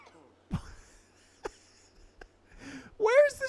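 A person gives a few short, dry coughs and throat-clears, spaced apart over a quiet background, with a brief vocal sound near the end.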